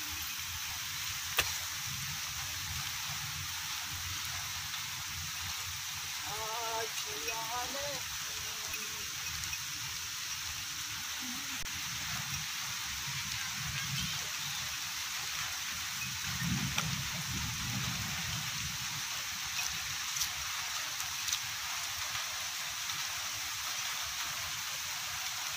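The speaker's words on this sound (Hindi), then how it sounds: "बारिश बहुत ही तेज़ आ चुकी है, बहुत ही तेज़ बारिश हो चुकी है" Steady, heavy rain hisses continuously with a dense wash of drops; a few faint knocks and a brief chirp sit beneath the downpour.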